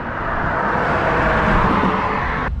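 Loud roadway roar of cars passing close beside a cyclist on a busy road, a steady broadband rush with wind-like rumble that cuts off abruptly at the end.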